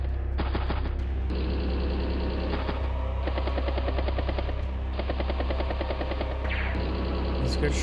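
Rapid bursts of anti-air gunfire from a unit in the Advance Wars video game crackle in loud, dense volleys with a steady low rumble beneath, running almost continuously through the stretch.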